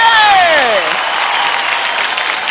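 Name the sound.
audience applause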